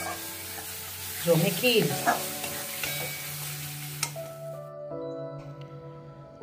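Mashed ridge gourd is stirred and scraped around a pan over low heat, with a few soft bursts of stirring and faint sizzle in the first seconds, then quieter steady tones carry on underneath.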